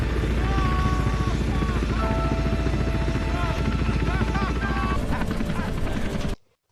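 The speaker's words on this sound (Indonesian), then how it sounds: "helikopter yang berpatroli pun datang dari arah yang berlawanan" A patrol helicopter arrives in a film scene, a steady loud rotor and engine drone filling the whole clip under music and other film sound before cutting off abruptly near the end.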